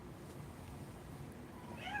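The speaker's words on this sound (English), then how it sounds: "A cat just opened my door" A cat meows near the end, a rising high cry over a steady low rumble of background noise.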